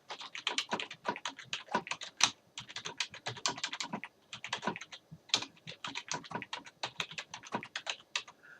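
Steady, fast typing on a computer keyboard, dense clicking keystrokes with brief pauses, close by and fairly quiet.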